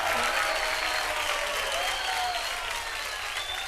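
A studio audience at a Hindi comedy show bursts into loud, continuous applause for a film actor guest, dense clapping holding steady for the whole stretch.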